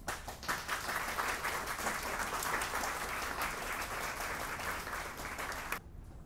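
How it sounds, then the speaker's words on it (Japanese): A ceremony crowd at the WowUs observation facility opening at Osaka Dojima Hama Tower claps to welcome the Expo mascot Myaku-Myaku, a steady, fairly distant round of applause that cuts off abruptly near the end. "皆様、大きな拍手でミャクミャクをお迎えください"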